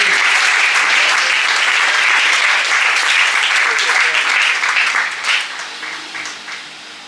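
A church congregation at an evangelistic campaign gives loud, sustained applause that fills the room. Toward the end the clapping thins into a few scattered claps.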